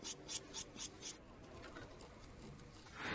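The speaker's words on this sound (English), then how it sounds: "The felt surface is then carefully smoothed." Felt on Schimmel piano hammerheads is smoothed by hand: five quick, evenly spaced rasping rubs, followed by quieter, softer scraping. The sound is faint and close.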